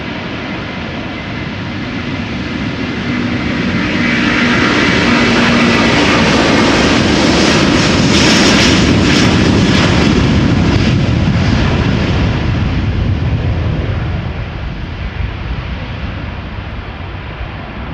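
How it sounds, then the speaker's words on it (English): Delta Airbus A330-300 at Amsterdam Schiphol, bound for Minneapolis, spooling up for takeoff: a loud, broad engine roar that swells over several seconds, peaks, then slowly eases while staying strong. "Sounds like it's spooling up right away. Okay, Delta Airlines flight 163, Delta Airbus A330-300 going to Minneapolis."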